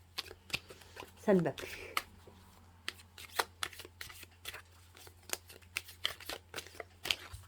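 Tarot cards being shuffled by hand, a run of quick crisp riffles and taps close to the microphone, with someone speaking briefly in French in between.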